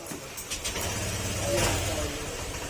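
Honda Click scooter engine starting and running up, a steady mid-pitched motor hum that swells briefly to a louder rev before settling, close to the listener, with faint voices in the background.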